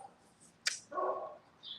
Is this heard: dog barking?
yes